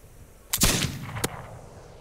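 Gunfire in a video game: one loud close shot followed by a second sharper report about two-thirds of a second later, over a steady low background with no talk.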